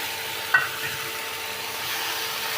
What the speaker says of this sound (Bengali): আর এই দেখো বাগার বসিয়ে দিয়েছি।